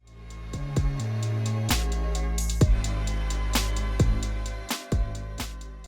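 Bright bell-like chimes struck repeatedly over a sustained synth pad, with deep low tones shifting underneath and a few sharp hits punctuating a steady electronic texture, no voices.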